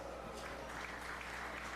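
A crowd at a 4-H fair sheep show applauds steadily, a dense wash of clapping that holds at an even level throughout, heard from a short distance.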